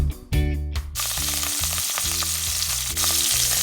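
Ingredients for a pork chop stew drop into a hot pot with a loud burst of sizzling, then settle into a steady, close frying hiss with faint stirring, no voices.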